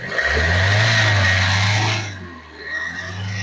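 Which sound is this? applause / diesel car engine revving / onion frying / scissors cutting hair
diesel car engine revving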